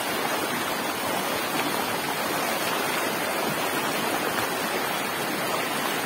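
Clean river water of the Rio da Caixa at Jatobá rushes and churns nearby, a loud, unbroken roar of turbulent flow with no voices.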